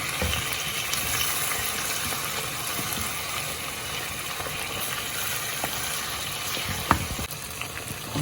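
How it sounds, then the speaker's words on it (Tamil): Tandoori chicken wings fry in oil with a continuous close sizzle, a few soft clacks as pieces are flipped to cook the other side, no talking. "இந்த மாதிரி எல்லாத்தையும் திருப்பி விடுவோம். மற்ற பக்கம் வேகட்டும்."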